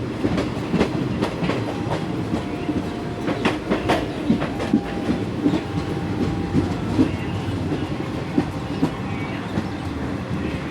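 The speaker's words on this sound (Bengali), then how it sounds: "আমাদের ট্রেনটা এখন আসানসোলের আউটার দিয়ে যাচ্ছে, আর অল্প কিছুক্ষণের মধ্যে আমরা আসানসোলে প্রবেশ করব।" A passenger train runs on rails through the outer approach to Asansol in light drizzle, with a steady close rumble and rhythmic clickety-clack of wheels over rail joints throughout, and no talk.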